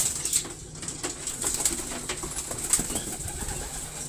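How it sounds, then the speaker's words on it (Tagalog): Racing pigeons let out of a loft into a viewing area coo softly and flutter their wings, with a steady murmur of calls and wingbeats close by. "Napalabas ko na nga mga kapakpak yung mga ibon namin ni Palawan Love dun sa aming viewing area."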